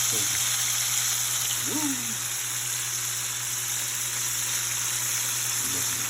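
Chicken sizzling in a frying pan just after being flipped, a steady broadband hiss running the whole time with a brief exclaiming voice over it.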